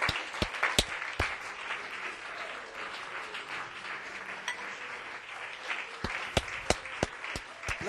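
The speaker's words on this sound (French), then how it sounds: "Pouvons-nous donner à Dieu une acclamation pour ces témoignages." A church congregation in Roubaix applauds after testimonies, many hands clapping in a steady, moderately loud wash with a few sharper, nearer claps standing out.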